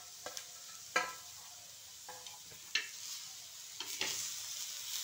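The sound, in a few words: masala being sautéed until brown in a pan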